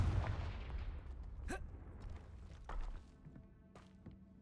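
Hogwarts Legacy Confringo fire blast spell: a thumping blast with a crackling tail, then several smaller impact bursts, fairly faint and fading.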